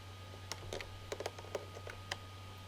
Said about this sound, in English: I can use my keyboard shortcut, Control, Alt, and my S key to save the transaction.